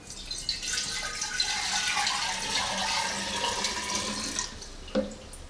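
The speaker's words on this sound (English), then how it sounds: "So I take the 1 liter first of cold water." Cold water pours steadily into a jar for brewing kombucha, a continuous close splashing rush lasting several seconds with a small clink near the end.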